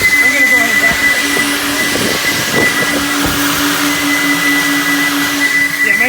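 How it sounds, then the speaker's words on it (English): A JE Adams Turbo Vac coin vacuum at an Ocean Shores car wash cleans out a car, its loud steady motor roar carrying a piercing high whistle that drones on unbroken throughout. "God, I'm vacuuming the car."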